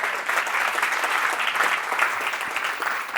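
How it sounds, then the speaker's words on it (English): An audience applauds steadily and loudly at a property business talk, a dense wash of many hands clapping continuously, with no voices over it. "Can we give them a round of applause, please?"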